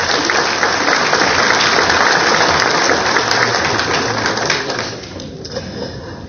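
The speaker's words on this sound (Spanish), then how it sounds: "recibimos con un fuerte aplauso." An audience at a formal institutional event in Peru gives a loud, sustained burst of applause that stays dense for about five seconds and then thins out as the clapping fades.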